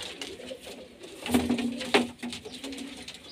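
Kasuri, Ferozpuri, Teddy, Golden and Amritsari pigeons kept for sale in Multan coo in a few soft, throaty phrases, close by and clear, with no talk.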